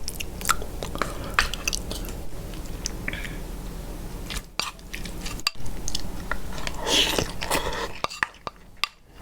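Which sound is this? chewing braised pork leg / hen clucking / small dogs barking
chewing braised pork leg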